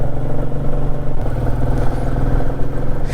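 A rented, somewhat underpowered motorcycle rides a hill road between Siliguri and Darjeeling, its mid-range engine droning steadily up close with slight rises and a faint clatter throughout.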